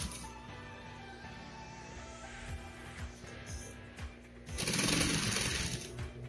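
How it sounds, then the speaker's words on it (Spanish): A sewing machine stitches a bias-cut collar for a V-neck, its needle chattering in a steady mechanical run under a low hum, growing louder and harsher near the end. "Vamos a coser hasta el otro lado"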